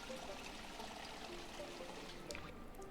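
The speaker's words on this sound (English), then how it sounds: "Fill the water." Water filling a container in the survival video game Project Zomboid, a steady faint pouring trickle lasting the whole moment with low background hum.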